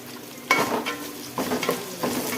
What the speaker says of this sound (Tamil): வெங்காயம்லாம் நல்லா வதங்கி வந்துட்டு இப்போ கருவேப்பிலையை போட்டுக்கலாம்